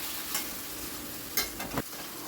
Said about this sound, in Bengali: এখন আমি হাই ফ্লেমেই রেখেছি। অনবরত কিন্তু নাড়তে হবে